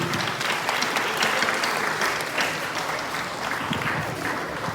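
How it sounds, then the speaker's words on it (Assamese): Sustained applause from an audience at a chess tournament prize ceremony, cheering on the under-7 players. Steady, dense hand-clapping fills the hall throughout, with no voices standing out. "আমি গোটেই গ্ৰুপটোক এবাৰ হাত তালিৰে তেওঁলোকৰ উৎসাহ"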